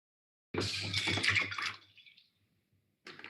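Ice pieces dropped into a container of water used as a model ocean make a splashing, sloshing burst lasting about a second, then fade, followed by another brief splash near the end.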